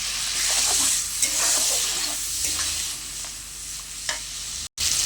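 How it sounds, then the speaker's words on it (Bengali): Masala with green chilli, salt and a splash of water sautés in a pan, giving a continuous close sizzle with occasional spoon scrapes and taps, cutting out abruptly near the end. "অল্প একটু জল দিয়ে মশলাটা আরেকটু ভালো করে কষিয়ে নেব"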